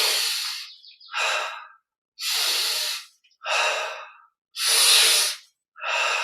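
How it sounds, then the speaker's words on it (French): Slow, deep breaths in and out during a guided Yogoda energization meditation, each breath an airy whoosh of about a second, close and alone, separated by short silences. "Inspire, expire"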